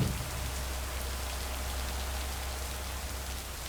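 Steady rain falls on surfaces outdoors, a faint, even hiss of drops that continues without pause, with a low hum beneath and no speech.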